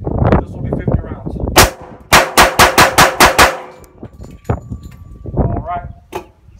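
Rapid string of roughly seven or eight sharp shots from Federal ammunition cracks out close by, with a few isolated shots before and after and voices talking in between.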